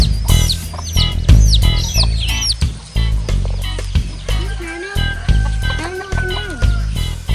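Chickens cluck and chirp close by in a busy, overlapping chatter, with bursts of higher calls and steady low clucking throughout.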